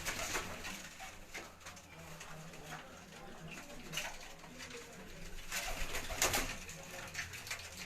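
Rooftop racing pigeons coo softly amid a noisy outdoor background with scattered rustles and flutters, the calls faint and intermittent rather than close.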